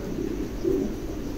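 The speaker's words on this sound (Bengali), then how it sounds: "চমৎকার এক জোড়া কবুতর, একদম নতুন নিউ এডাল।" A pair of big, freshly adult Lakkha pigeons coos softly and steadily at close range, a low murmuring drone lasting the whole moment with a slightly fuller swell midway.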